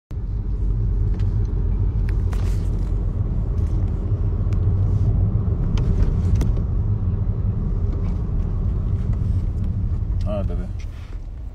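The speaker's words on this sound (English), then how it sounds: "pull over the car" Car engine rumbling steadily from inside the cabin as the vehicle pulls over, a loud continuous low drone with people talking over it, then cutting off near the end.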